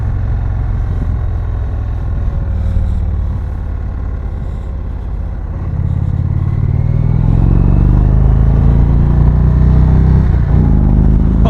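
A 2020 Indian Springfield motorcycle rides along in second gear, its deep engine drone loud and steady, then swelling with rising revs as it accelerates toward the end.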